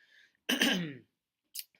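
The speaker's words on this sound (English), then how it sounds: "Excuse the cough." A single close, sharp cough, followed by a brief faint throaty sound; otherwise quiet.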